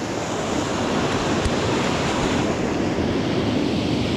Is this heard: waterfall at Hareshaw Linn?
yes